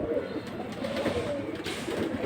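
Pigeons of a black-and-silver patterned pair coo in soft, low rolling bursts, close by and fairly quiet, with a steady murmur throughout.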